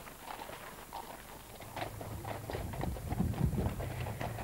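Horses walking along in the Maremma countryside of Tuscany, their hooves giving a soft, irregular clip-clop over a steady outdoor rumble, moderately close.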